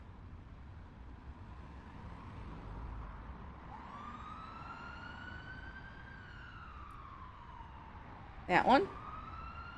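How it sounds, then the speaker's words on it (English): Ambulance siren in the horror game Nightmare Frames, a wailing tone rising and falling steadily under low background rumble, with a brief louder burst near the end and a voice speaking briefly. "I think that siren they are playing is an ambulance."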